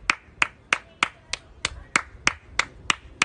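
Eleven sharp, evenly spaced claps ring out one by one from a woman on her balcony, close and crisp with brief gaps between them and no voices.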